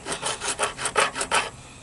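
A file rasps across a worn guitar fret in about seven quick, even strokes, each a bright scraping rub, close and fairly loud, with no voices.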